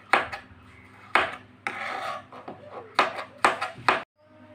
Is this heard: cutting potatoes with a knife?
yes